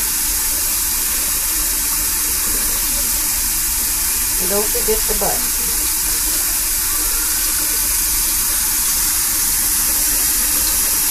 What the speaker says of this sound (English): You should never get a Persian's head under the faucet water.